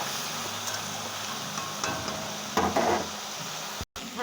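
Vegetables sizzle in oil in a pan while being stirred, a steady frying hiss with occasional scrapes and knocks of the spoon against the pan.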